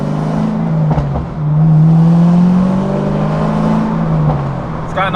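Corvette ZR1 engine idling loud and close with a freer exhaust, a deep steady rumble that swells briefly as the revs rise and then settles, with faint crackles near the end.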